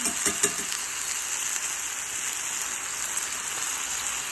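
Bulgogi meat sizzling on a hot cooking surface, a steady bright hiss with a few soft crackles near the start, continuous and fairly close with no talking.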